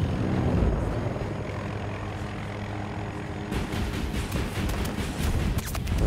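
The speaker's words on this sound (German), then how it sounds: "Vom Spawn kommt jetzt gerade Attack-Heli." Attack helicopter in the video game Battlefield 2042, a continuous whirring rotor and engine drone with a burst of rapid gunfire crackling in the latter half.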